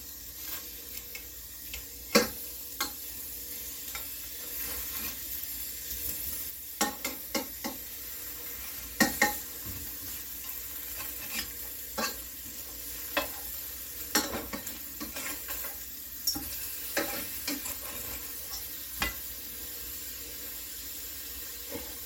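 Beef and onions cooking in a pan for a stew, a steady low sizzle under repeated scraping and stirring clicks of a utensil against the pan, fairly close and with no talk.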